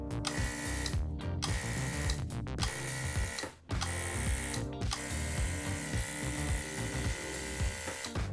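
A homemade stacked blower and vacuum unit switched on by a foot pedal runs with a steady, dense motor whir and mechanical rattle, briefly cutting out mid-way before resuming, loud and close with no talking.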